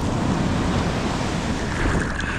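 Ocean waves break at an empty surf spot at sunrise, a steady, loud, wind-blown roar of surf that continues throughout with no voices.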